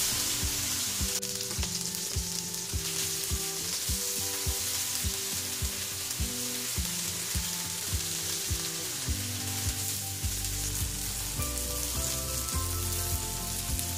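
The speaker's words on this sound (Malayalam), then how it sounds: "അപ്പോൾ ബാക്കി ഭാഗങ്ങൾ കൂടി മറിച്ചിട്ട് ഇതുപോലെ ഗോൾഡൻ ഫ്രൈ ആക്കി എടുക്കുക." Paneer tikka pieces frying golden on a hot tawa give a steady, close sizzle throughout, with a sustained tonal hum and some clicks of turning underneath.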